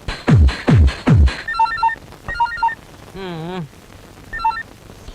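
A telephone rings in short repeated electronic trills with pauses between them, following a few loud percussive thumps and a wavering warble, in a comedy scene.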